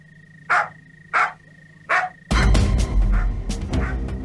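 A pet dog named Timmy barking, three spaced loud barks followed by a burst of busier, noisier barking with clatter, close by.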